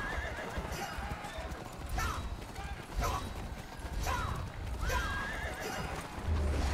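A horse in the Rival Knights mobile jousting game whinnies several times over steady clip-clop galloping hooves, with a creaking, mechanical background. The game sounds are loud and close throughout.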